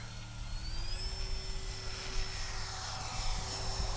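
An E-flite Twin Timber electric RC airplane takes off, its motors giving a steady, moderately loud whine that rises slightly in pitch and holds over a constant outdoor hum, with no talking.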